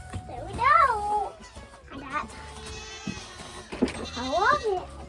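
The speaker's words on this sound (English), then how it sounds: "get these goats fed" Goats bleat loudly at feeding time on a farm, a few wavering cries close by, separated by rustling and brief noises.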